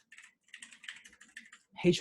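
Quick, light clicking of typing on a computer keyboard in short bursts of keystrokes with brief pauses between them, fairly close, until a voice starts speaking right at the end.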